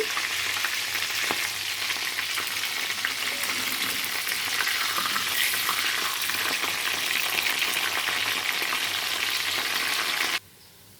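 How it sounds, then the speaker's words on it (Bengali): Beans fry in an oil-filled pan, making a loud, continuous sizzle with faint stirring scrapes that runs steadily until the frying abruptly drops away to quiet just before the end. "গাজরগুলো ভাজা হয়ে গেছে, একই রকমভাবে আমি বিনসগুলো ভেজে নেব।"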